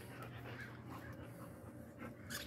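A big, friendly dog pants steadily and close by, quick rhythmic breaths continuing without a break through the whole moment, with no barking and no one talking.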